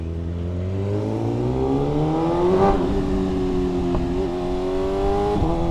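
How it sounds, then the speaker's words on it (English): A motorcycle engine revs while riding on the road. The loud, close note climbs in pitch through the gears, with brief breaks at the shifts and no talk over it. "Oh, this bike just sounds so good."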